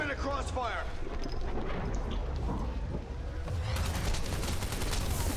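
Gunfire in the video game Army of Two: The Devil's Cartel, loud rapid bursts and volleys of shots that crackle continuously throughout, mixed with game sounds under players talking.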